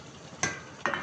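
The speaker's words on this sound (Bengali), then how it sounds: "এখন আমি ভেজে রাখা মাছগুলো দিয়ে দিব।" Fried pangas fish pieces going into a spice paste frying in a pan, giving two short, loud bursts of sizzling about half a second apart over a low background hiss.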